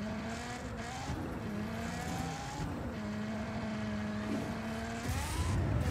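A car driven hard in Just Cause 4, its engine revving up and down through gear changes with squealing tires, loud and continuous, no voices over it.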